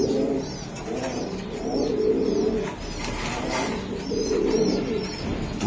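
Budapest pigeons in a breeding loft coo in repeated rolling phrases, close and fairly loud, with short pauses between bouts.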